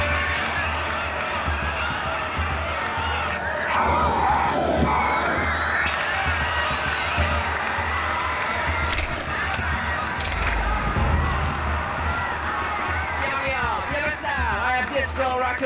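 A dense video-game rally crowd cheers and shouts steadily, with loud overlapping voices and whoops throughout and a few brief sharp bursts rising above the din.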